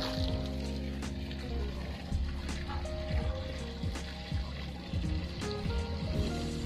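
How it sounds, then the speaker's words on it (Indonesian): Water pours from a Shimizu water pump in a continuous faint trickling splash, with small irregular drips and clicks over a low steady hum. "mana air mengalir sampai juga."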